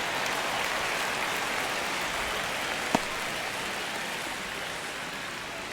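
Baseball stadium crowd during a ninth-inning Blue Jays vs Pirates game, a continuous broad murmur of many distant voices with one brief sharp crack near the middle.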